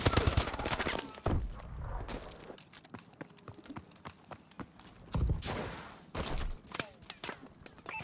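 Sniper fire crackles during an online Call of Duty: Advanced Warfare multiplayer match, several loud sharp shots and bursts of gunfire spaced through the clip amid game noise and hurried footsteps.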